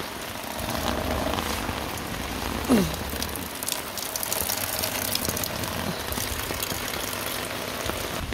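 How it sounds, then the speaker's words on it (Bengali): Rain falls steadily on a surface outdoors at a building site where a bathroom is under construction, a constant wash of drops with a brief knock partway through and a faint engine hum beneath. "এই যে দেখেন বৃষ্টি নেমে গেছে"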